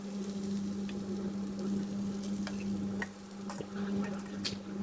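Steady soft sizzle of frying in heated coconut ghee in a pan over medium flame, with an even hiss, a low hum and occasional light clicks and stirring taps.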